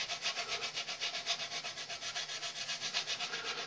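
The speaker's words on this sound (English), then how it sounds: "I'm sanding on the back side and I'm rolling it around. And sanding the front side" A car body panel edge, on a 1962 Mercury or 1972 El Camino, is sanded by hand: a steady, rapid back-and-forth rasping rub, close and continuous, with no talking.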